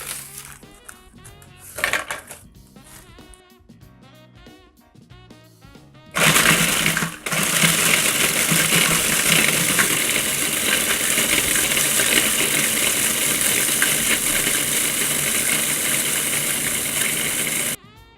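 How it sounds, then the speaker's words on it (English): Butter cookies blitzed to powder in a food processor: brief rattling bursts at first, then a loud, sustained whirring grind that runs steadily for about ten seconds before cutting off. "introduce those to your food processor and blitz until powdered."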